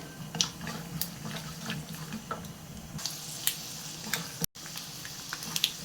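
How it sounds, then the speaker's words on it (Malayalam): Peanuts roasting in a pan on the stove for a rice poha breakfast, a soft steady sizzle and crackle with scattered light taps and clinks, close and fairly quiet, no voices. "ഇതിലേക്ക് നമുക്ക് നിലക്കടല ഇട്ട് വറക്കാം"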